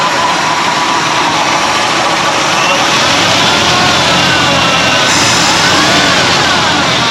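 Lincoln Continental V8 revived after sitting abandoned for 32 years, running loud and close with a steady, slightly rough idle and a faint whine layered over the engine drone.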